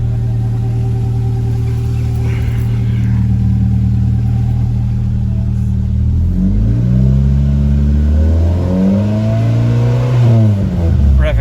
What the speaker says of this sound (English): It fired up okay.